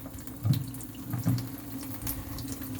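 Tap water running steadily into a sink during surgical hand washing, a soft continuous splash with a couple of louder splatters as hands and forearms pass under the stream, close by.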